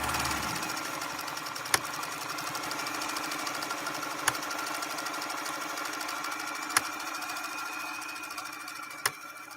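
A black PFAFF 230 sewing machine fitted with a size 75/11 embroidery needle runs at a steady, fast stitching drone, with a few sharp clicks spaced a couple of seconds apart.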